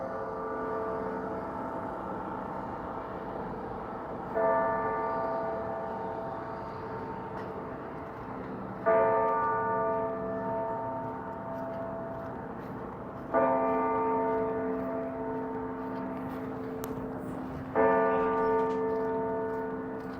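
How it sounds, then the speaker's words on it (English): Church bells chiming outdoors on a winter night, four resonant strikes spaced about four seconds apart, each ringing on and decaying, moderately distant over a low background hum, no talk. "It's kind of surreal being out here listening to those bells chime."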